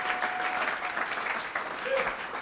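Church congregation applauding in acclamation of the Lord, a steady wash of clapping from many hands that holds at an even level throughout, with faint voices mixed in.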